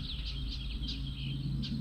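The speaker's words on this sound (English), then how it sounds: "You can hear a finch over here barking at me." A finch outdoors by calm water gives a series of short, fairly close repeated calls over a low steady background hum.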